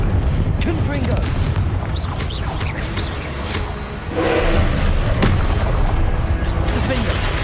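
Confringo blasting spells going off in the Hogwarts Legacy video game, a run of loud booming explosions with whooshing bursts layered over dense game noise, with a surge around the midpoint.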